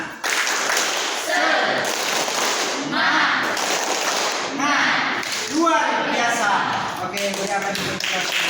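A group performs the Indonesian 'tepuk semangat' spirit clap, with rhythmic bursts of many hands clapping in patterned sets, mixed with chanting voices and loud speech throughout.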